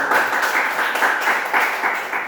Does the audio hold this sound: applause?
yes